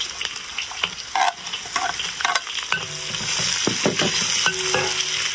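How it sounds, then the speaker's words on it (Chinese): Bean paste and whole spices stir-fried in hot oil in a rural home kitchen, a steady close sizzle under quick scraping strokes of a spatula, loud and continuous with no talk. "油热下缸酱爆香"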